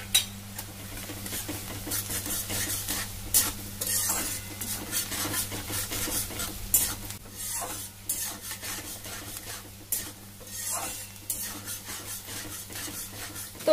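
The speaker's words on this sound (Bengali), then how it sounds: "দিয়ে ভালো করে লাল লাল করে ভাজা করে নেব পেঁয়াজটা" Onions with a pinch of sugar fry in a pan for Bengali katla fish kalia while a spoon stirs and scrapes them in repeated, uneven strokes over a soft, steady sizzle.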